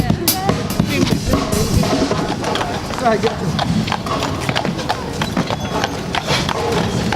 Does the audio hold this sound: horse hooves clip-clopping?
yes